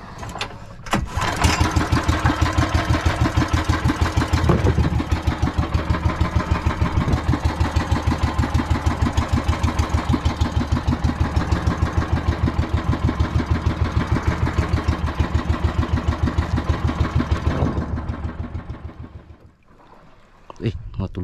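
A generator engine aboard a boat out at sea chugs loudly and steadily at close range, then winds down near the end before a brief restart.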